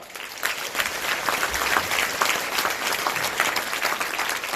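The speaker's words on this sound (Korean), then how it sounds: "하나님께 영광과 감사의 박수를 한번 올립시다." A crowd at a Christian businessmen's New Year gathering claps steadily, a loud, dense burst of applause that holds its level throughout with no voices over it.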